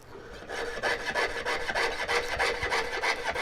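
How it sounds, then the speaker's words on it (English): Steady back-and-forth sawing on a metal spoon being cut into a whale tail, a rhythmic rasping stroke repeating about every third of a second, close and continuous without speech. "constant sawing or the grinding noises"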